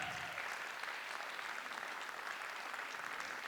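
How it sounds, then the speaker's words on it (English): Audience applause at an elementary school arts awards ceremony, a steady, even wash of many hands clapping throughout, moderately distant and without a break. "let's give them a big, huge round of applause"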